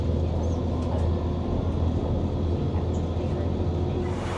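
A train moves alongside a railway station platform, giving a steady, close, full rumble throughout with faint voices in the background.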